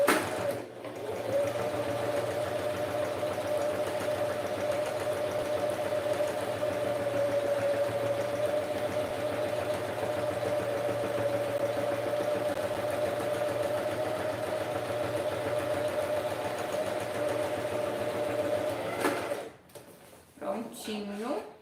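A sewing machine runs steadily for most of the stretch, stitching thin, fine fabric on a men's toiletry bag, with a continuous close whirring hum that cuts off near the end before a voice speaks briefly.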